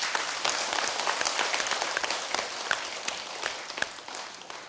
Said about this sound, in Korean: 여러분 박수 한번 치세요.